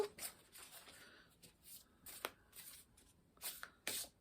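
Shaman's Oracle cards being shuffled by hand, with several bursts of riffling and sliding card noise spaced through the take, crisp and close with brief pauses between them.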